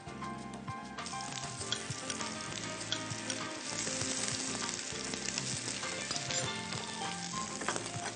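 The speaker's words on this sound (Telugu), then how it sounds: "మనకి ఆయిల్ హీట్ అయింది, వేసాం." Spices and ginger-garlic paste frying in hot oil in a home kitchen, a loud continuous sizzle with stirring clatter throughout, no talk.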